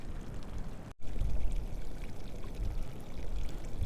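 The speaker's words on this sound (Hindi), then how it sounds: "इस गुंबद में से गर्म पानी निकल रहा है" Hot spring water pours steadily out of a dome near Demchok in Ladakh, a close, continuous rushing splash that cuts out briefly near the start and then resumes, with no talking.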